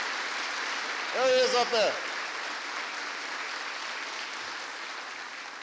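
A crowd at a presidential address at a US Army garrison in Yongsan, Korea, applauds a congressman with a steady, distant wash of clapping, briefly broken by someone speaking.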